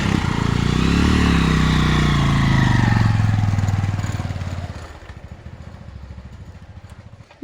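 A motorcycle engine runs in cold winter weather, a loud, steady low drone that shifts pitch in the opening seconds, then settles into a quieter, rough idle with a faint rhythmic chug.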